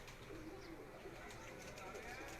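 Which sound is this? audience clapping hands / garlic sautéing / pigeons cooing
pigeons cooing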